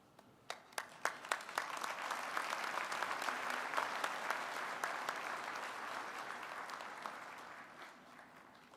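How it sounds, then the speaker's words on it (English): A few scattered claps quickly swell into sustained applause from a crowd, which holds steady and then slowly fades. "Let's have a final round of applause for Carl."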